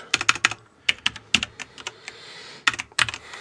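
Keystrokes on an English-layout computer keyboard, coming in quick irregular bursts of clicks separated by short pauses, crisp and close with no voices.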